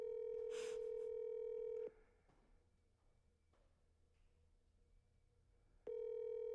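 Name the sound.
phone call ringing out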